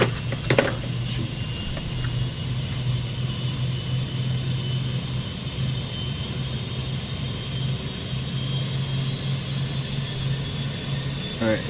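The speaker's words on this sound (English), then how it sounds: "it sounds like we had a fairly successful engine start, APU start" Jet aircraft APU and engine spooling up on the ramp, a steady high turbine whine over a constant low rumble, with a brief clatter near the start.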